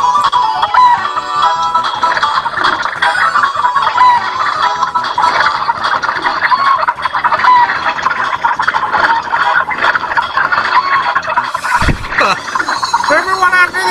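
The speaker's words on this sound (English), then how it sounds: "All the chickens got loose." Chickens cluck steadily in the Breath of Fire 3 video game, a busy run of game-style fowl sounds for many seconds with a brief splash-like burst near the end.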